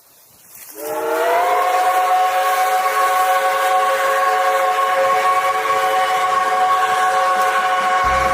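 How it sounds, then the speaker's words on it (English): A train horn blares loudly and steadily in Pittsburgh, rising from quiet within the first second and then holding one sustained, rich tone for about seven seconds, with no voices. "keep watching as the trains pass through Pittsburgh"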